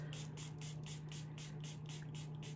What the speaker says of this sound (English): I'm just spraying my beauty blender